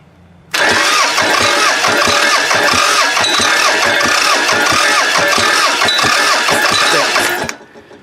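A Toyota Camry wagon engine, spark plugs out for a compression test, cranks over for about seven seconds in a loud, fast, rhythmic starter chug that then stops abruptly.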